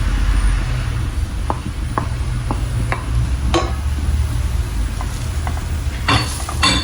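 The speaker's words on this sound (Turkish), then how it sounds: "Tereyağını yakmadan hemen mantarlarımı ilave ediyorum." Mushrooms sautéing in foaming butter and oil in a pan, a steady low sizzle with scattered utensil scrapes and clinks against the pan, close and moderately loud, no voices.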